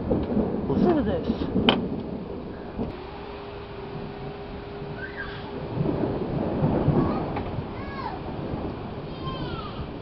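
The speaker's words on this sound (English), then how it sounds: "Thunder's far away, but it's like really close though" Distant rumbling thunder rolls through a storm with rain in the background, a brief sharp crack early on, and a person speaking quietly over it.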